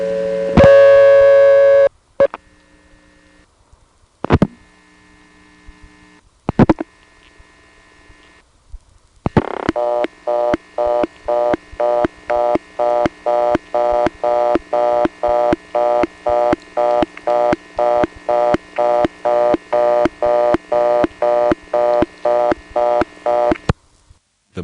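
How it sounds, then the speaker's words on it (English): Telephone reorder tone from a blocked trunk on a 1978 Vermont independent exchange, beginning with a few clicks and a brief tone, then a loud fast-repeating on-off tone pulsing steadily for about fifteen seconds. "Here's a blocked level in Plainfield getting us the reorder tone,"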